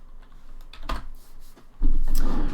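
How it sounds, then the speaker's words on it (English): Typing on a computer keyboard comes in a few scattered clicks and a louder burst toward the end, close by, with faint room noise between the keystrokes. "Oh, he's typing it."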